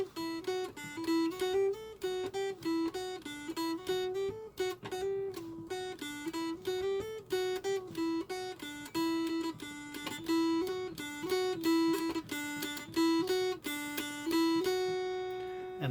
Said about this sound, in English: can be played by two dulcimers at the same time